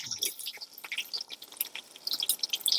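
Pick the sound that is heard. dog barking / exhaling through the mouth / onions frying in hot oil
onions frying in hot oil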